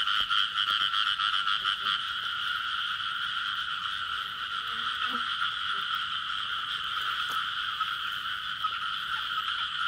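Frogs in a nighttime field keep up a loud, unbroken croaking chorus, the trilling calls layered thickly and close, never pausing across the whole stretch.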